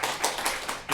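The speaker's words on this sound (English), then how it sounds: "Can we have applause for Manas?" Brief applause from a conference audience greeting a speaker, a short run of quick claps at moderate distance lasting about a second.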